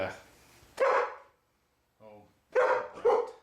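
A dog barks nearby in a few sharp, loud bursts separated by short pauses, with a brief softer sound in between.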